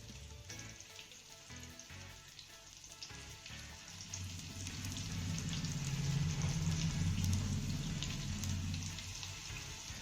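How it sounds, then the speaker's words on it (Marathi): Cut colocasia leaf rolls (alu vadi) fry in a tempering of hot oil, a quiet sizzle that swells and thickens midway and then holds steady, with no talking. "फोडणी आपली चांगली मिक्स करून झाली की यामध्ये आपल्याला कट केलेल्या वड्या घालायच्या"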